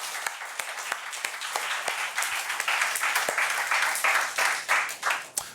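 A church congregation claps together at a Sunday service, a dense, lively round of applause that builds and stays full for several seconds, heard from within the room with no talking over it.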